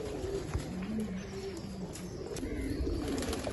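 Domestic flying pigeons kept on a rooftop loft coo in low, repeated rolling phrases close by, with a steady hum of coos throughout and soft chirps above them.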